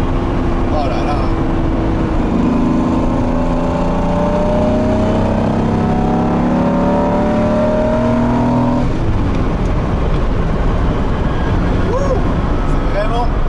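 A Lamborghini Diablo supercar engine drones and rises in pitch while driving, a loud steady mechanical roar with one shift-like drop partway through, and someone talks over it.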